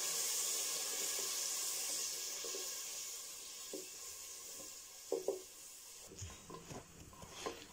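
Spice paste fries in oil for a veg pulao, an even close sizzle that quiets partway through, followed by scattered stirring clanks and scrapes in the pan.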